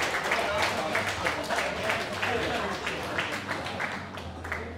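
Audience applause at a catch wrestling event: a steady wash of clapping from a crowd lasting several seconds, with voices mixed in.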